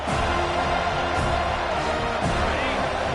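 Crowd noise filling a college football stadium during a Colorado Buffaloes game against Florida State, a dense continuous roar with swelling cheers rising briefly, under a broadcaster's commentary.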